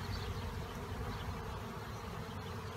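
Honey bees swarm around an opened Langstroth hive after a powdered sugar treatment, a dense continuous hum blending with steady outdoor noise, no voices.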